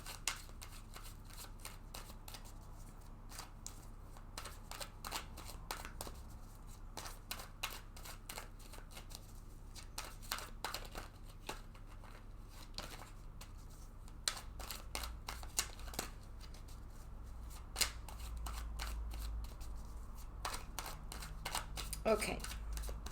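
A deck of tarot cards is shuffled repeatedly by hand, giving soft, quick riffling clicks and flutters that come in close, irregular bursts over a quiet room hum.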